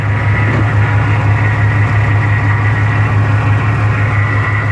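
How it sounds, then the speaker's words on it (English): A truck engine idles close by while a mechanic checks underneath for a power steering leak, a loud, steady low rumble with a constant hum that never changes, and no talk. "We got the truck running."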